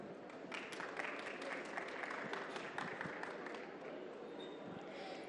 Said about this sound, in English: for you all to welcome them with a warm round of applause.